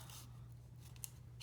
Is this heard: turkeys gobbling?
no